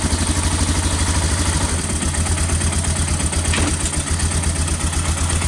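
A 1999 Yamaha Bear Tracker 250 ATV idles cold with the choke partly on, a steady, loud, close single-cylinder chug with even rapid pulsing and a faint mechanical clatter throughout.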